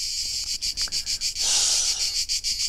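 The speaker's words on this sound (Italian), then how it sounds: "Sono le cicale che mi stanno distruggendo, c'è un albero, un unico albero." Cicadas buzz loudly from a single tree at a carp-fishing spot in Ostellato, a harsh high drone pulsing in fast regular throbs with a brief sustained swell.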